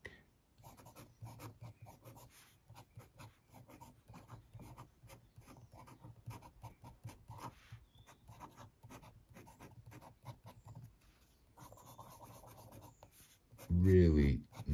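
A broad-nib fountain pen, a Pilot M200 Iconic Blue filled with Waterman Inspired Blue ink, scratches and rasps steadily across paper in continuous close strokes with short pauses between words, with a brief louder bump near the end.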